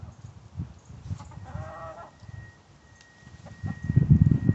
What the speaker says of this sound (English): those are our chickens